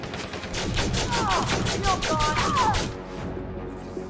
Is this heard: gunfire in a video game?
yes